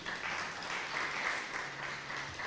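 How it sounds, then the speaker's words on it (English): Audience at an inter-secondary schools debating competition in Dominica applauding its sponsors, a steady, dense wash of clapping that holds evenly from start to finish with no voices on top. "Please clap for our sponsors"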